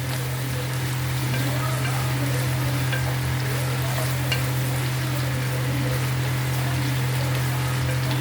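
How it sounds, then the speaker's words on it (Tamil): Tomatoes and green chillies sauté in oil in a pan for a gravy, giving a loud, continuous, even sizzle with faint crackles over a steady low hum from the stove. "தக்காளி சேர்த்து தக்காளியுமே ரொம்ப நல்லா வதங்கணும்"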